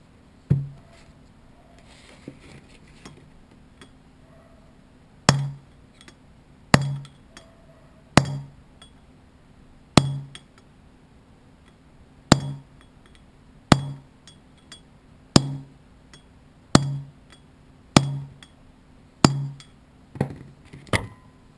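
Repeated hammer blows drive a bearing inner race into a boat trailer hub, sharp metallic strikes landing every second or so, some in quick pairs, loud and close with quiet gaps between.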